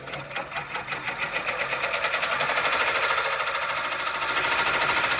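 An embroidery machine stitches out a KC Fitness logo with thin lettering, its needle pounding in a fast, steady, loud mechanical rhythm that builds slightly and holds throughout.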